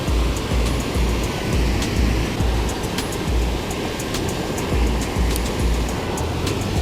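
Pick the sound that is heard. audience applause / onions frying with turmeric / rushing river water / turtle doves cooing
rushing river water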